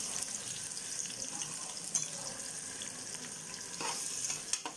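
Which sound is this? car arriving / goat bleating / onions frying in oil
onions frying in oil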